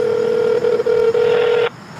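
A handheld phone gives a steady electronic tone with a few short breaks as a call is dialed, then the tone cuts off abruptly, loud and close.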